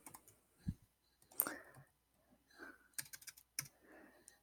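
Quiet, scattered keystrokes on a computer keyboard, a few soft clicks and taps spread irregularly with gaps between, close and faint in an otherwise still room.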